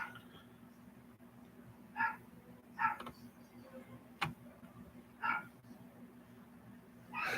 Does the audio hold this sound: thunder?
no